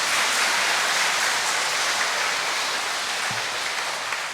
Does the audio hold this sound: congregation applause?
yes